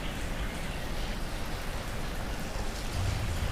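Steady rain falling outdoors at a Norfolk Southern rail yard by the Bristol, Virginia depot, a continuous broadband hiss of drops on surfaces with no voices, heard close and even throughout.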